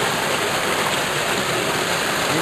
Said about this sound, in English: Ooh, mountain stream.